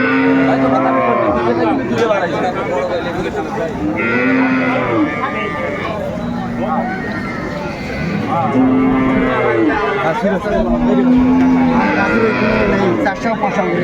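Cows and calves mooing repeatedly at a busy village cattle market in Dinajpur, Bangladesh, loud overlapping lows from several animals close by over constant crowd chatter.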